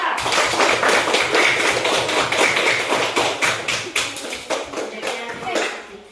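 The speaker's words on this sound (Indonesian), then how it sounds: "Tepuk tangan dulu buat Mas Arifin kelompok 2" A classroom audience gives a group presentation a burst of dense, close applause that gradually thins into scattered claps over several seconds, with a voice speaking over it.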